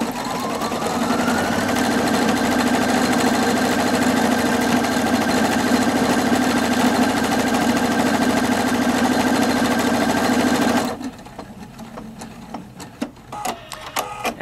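A Husqvarna Viking Opal 670 sewing machine embroiders a name in a steady, loud mechanical whir that holds for about eleven seconds, then stops abruptly, leaving faint clicks and handling noise.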